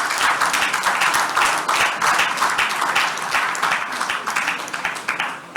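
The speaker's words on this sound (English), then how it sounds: "I thought all of us would be clapping" Conference audience applauding at a closing session, a steady, dense wash of many hands clapping throughout, fairly loud and sustained with no break.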